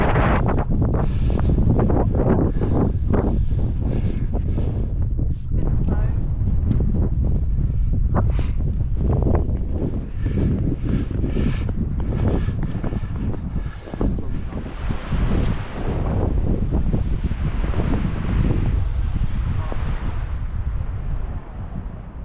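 Strong gusting mountain wind at a paragliding site, roaring and buffeting the microphone without a break, with surges and rustling throughout.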